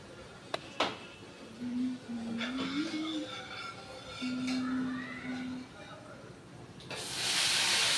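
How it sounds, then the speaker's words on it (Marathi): Hot oil with asafoetida tempering for dal (varan) gives a sudden, loud, close hiss that starts near the end and carries on to the finish. A voice talks before it. "वरणाला फोडणी देते मी पटकन."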